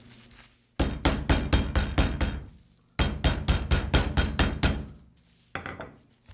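Butter block wrapped in plastic being pounded flat for croissant dough: two runs of about eight rapid, loud, heavy thuds, each run then pausing, with a third run starting at the end, close by and with no voices.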